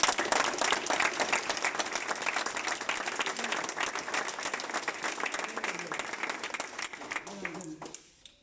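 An audience applauds steadily at the inauguration of the Georges Durand dojo, with dense sustained clapping that fades out near the end while voices murmur underneath.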